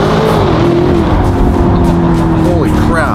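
A supercar engine accelerates hard and loud, its revving tone rising and holding steady close by, with a brief shift near the end and voices talking over the roar.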